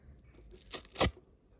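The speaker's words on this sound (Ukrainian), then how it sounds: "Так, ось наш пакетик. Так, його відкриємо. І я порвала, да?" A paper surprise packet is torn open by hand, two quick ripping tears close up, the second louder and sharper, in a quiet room.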